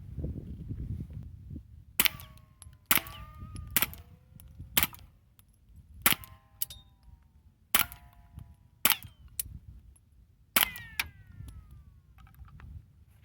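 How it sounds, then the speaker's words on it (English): A Ruger 10/22 .22 rifle fires at shotgun shell targets outdoors: about ten sharp, crisp cracks spaced a second or so apart, some followed by faint whining ricochets, with quiet wind rumble in between. "So I'll go ahead and shoot some shotgun shells for you."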